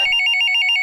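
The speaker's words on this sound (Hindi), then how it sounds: "अरे रुको चाचा, फोन आ गया किसी का भी" A phone rings in a cartoon comedy scene, a loud electronic ringtone trilling in rapid regular pulses with no talk over it.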